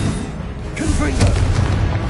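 A Confringo blast spell detonates in Hogwarts Legacy, giving a dense, heavy boom with a rumbling, crackling tail that fills the short moment at high volume.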